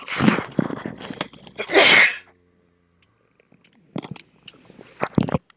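A loud sneeze bursts out, preceded by some brief rustling and followed by quiet, then a few scattered thumps and small noises.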